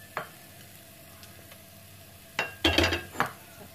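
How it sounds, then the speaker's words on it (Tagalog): Garlic and onion sauté in a couple of tablespoons of oil for squid adobo, a faint sizzle broken by a few sharp clinks and scrapes of a utensil against the pan near the end. "Gisa po muna natin ang bawang at sibuyas."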